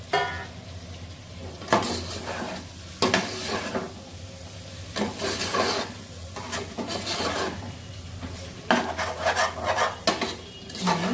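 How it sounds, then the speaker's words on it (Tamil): Ginger garlic paste and tomatoes sizzle in a pan while a spoon stirs and scrapes in repeated bursts, close and fairly loud, with no talking. "இஞ்சி பூண்டு பேஸ்ட்டு வதங்கட்டும், பார்க்கலாம்."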